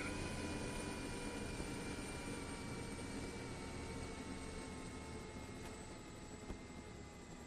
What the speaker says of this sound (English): Check the chopper still in air.